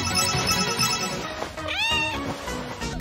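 A cat meows clearly and close, one drawn-out rising and falling meow in the middle, with softer shorter mews around it over a light background.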